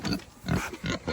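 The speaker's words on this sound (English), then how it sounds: "Oh, this big pig." A pig gives a few short, low grunts in quick succession, close by.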